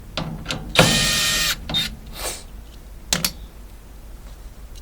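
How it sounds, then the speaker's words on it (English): A hand ratchet backs out small quarter-inch screws from a Maytag dryer panel, giving short bursts of clicking and one longer whirring run, fairly close and with no speech over it. "Now we want to get in and remove all of these little screws."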